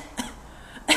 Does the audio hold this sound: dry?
yes